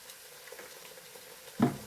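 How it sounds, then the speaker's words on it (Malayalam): Soy sauce goes into chicken fried rice frying in a hot pan, a soft steady sizzle that swells into a sudden louder hiss near the end as the liquid hits. "കുറച്ച് സോയാ സോസ് ഒഴിച്ച് കൊടുക്കുന്നുണ്ട്."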